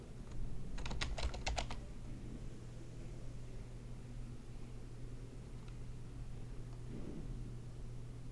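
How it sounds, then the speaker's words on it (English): A short burst of rapid typing on a computer keyboard, a quick run of crisp key clicks near the start, then only a steady low hum of room noise for the rest. "simply type a colon on your keyboard"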